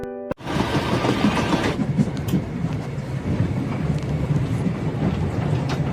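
A train rumbling along steadily, close by, with a continuous low roar and faint rhythmic clatter of wheels on track, loud throughout.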